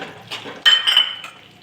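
A spoon clinking and scraping against a metal pan while adadiya pak is mixed with jaggery, ground cashews, almonds and dry ginger: a few soft scrapes, then brighter metallic clinks, close and isolated.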